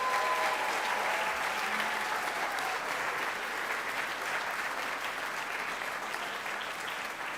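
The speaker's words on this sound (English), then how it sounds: "Could we give one more round of applause to all of today's award winners?" An audience applauds award winners at a school award ceremony with sustained, dense clapping that stays steady throughout and fills the hall without any voices over it.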